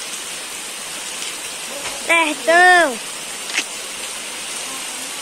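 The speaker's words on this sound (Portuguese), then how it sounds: "Olha a chuva boa aí, olha." Heavy rain pours down steadily in the Ceará backcountry, a close, constant hiss of falling water, briefly interrupted by a few spoken words.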